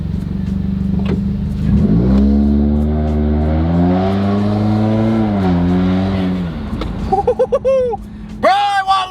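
A Subaru WRX with the turbocharged FA20 engine revs hard, holding a loud, wavering note for several seconds before dropping off. Excited voices then talk over it near the end.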